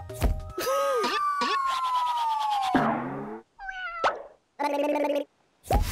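A cartoon cat meows and yowls in a bending, sliding cry, followed by short comic boings and plops with brief gaps between them.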